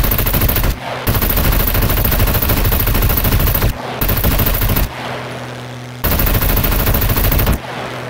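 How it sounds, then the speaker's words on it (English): Sustained machine-gun bursts from aircraft-mounted guns in the survival game Scum, loud and continuous for long stretches, broken by a few short pauses and a lower engine drone between volleys. "of course we can shoot with the guns"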